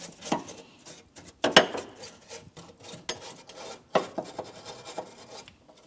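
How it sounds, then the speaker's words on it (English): A wire brush scrubs the battery mounting area of a 2007-2014 GMC Sierra 2500 HD pickup, making harsh rasping strokes in uneven bursts with short pauses, close and fairly loud, with no voices. "I'm going to use a wire brush."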